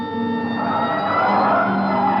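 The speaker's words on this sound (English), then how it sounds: "Hit the siren." A police car siren wails steadily and loudly throughout, with a harmonic whine over the rumble of the car during a chase through city streets.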